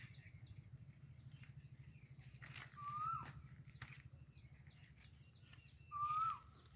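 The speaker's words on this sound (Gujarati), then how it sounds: "જો કોયલ ક્યાંક બોલે" An Asian koel calls from a tamarind tree at a village farm, with two short rising whistled notes a few seconds apart, moderately distant, over a steady low hum and faint outdoor ambience.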